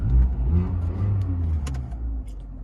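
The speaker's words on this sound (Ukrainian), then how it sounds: "Двигун працює ідеально" A 1.4-litre Skoda Fabia engine running at a smooth, steady idle, a low close hum with a slight rise early on, plus a few small clicks and knocks nearby.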